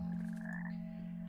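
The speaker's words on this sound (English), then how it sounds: "The frog statues?" A frog statue croaks in the video game Hogwarts Legacy, giving one steady, droning croak with a sustained low buzz and a rising overtone, loud and close, with no talk over it.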